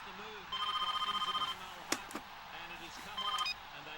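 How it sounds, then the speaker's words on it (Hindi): A telephone rings through a speakerphone after a redial, two bursts of rapid trilling rings separated by a pause, with a couple of sharp knocks between them and background talk. "स्पीकर फोन ऑन कीजिए please. Redial. It is ringing. I can hear it."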